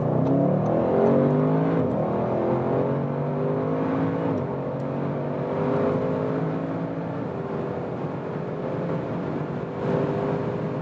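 An Audi RS6 Avant estate with rear-biased all-wheel drive accelerates hard from about 40 km/h to beyond 200 km/h. The engine roars loud and close, rising steadily in pitch through several gear changes.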